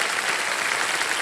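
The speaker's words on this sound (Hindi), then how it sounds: "यहाँ पर तालियों के साथ इनका स्वागत करते हैं।" Studio audience on the quiz show Kaun Banega Crorepati claps together in a steady, dense burst of applause, with no talking over it.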